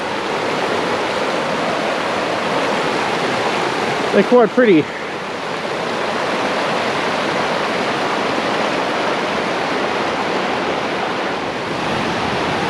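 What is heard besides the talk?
creek water flowing where two creeks join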